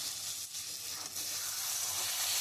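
Coriander powder, other spices and a few green chillies sizzle steadily in a pan for a fish curry, with soft stirring scrapes running beneath the continuous hiss.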